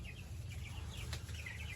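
Meat chickens cluck and chirp in a farm pen, a cluster of soft, repeated calls rising over a constant low hum of background noise.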